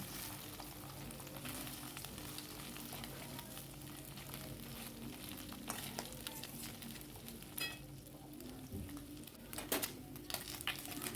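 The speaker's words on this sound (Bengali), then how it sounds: "তো দেখো এদিকে 1 পিঠ মাছের ভাজা হয়ে গেছে" Fish fries in a pan with one side already browned, a steady crackling sizzle running throughout with occasional louder spits and clatters from the utensil, close and continuous.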